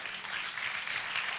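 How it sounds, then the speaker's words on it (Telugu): A church congregation at a Christian gospel meeting in Guntur claps together, a steady dense patter of hands heard at moderate level with no break. "కొట్టండి గట్టిగా చప్పట్లు"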